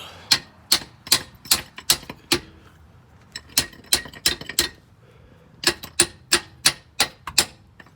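Sharp metallic hammer blows ring out in quick, even bursts of several strikes, separated by short pauses, close and clear.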